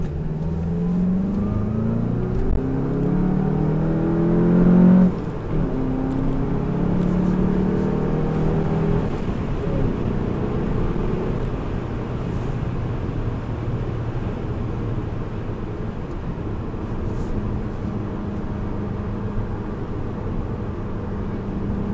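A car drives along Mulholland Highway, heard from inside as a steady engine drone with road noise. It swells a little during acceleration early on and is otherwise continuous and fairly loud, with no talking.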